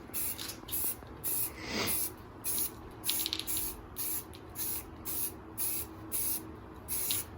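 Primer sprays in short, regular bursts onto a C8 Corvette engine cover, a soft close hiss pulsing on and off about every half second in light coats.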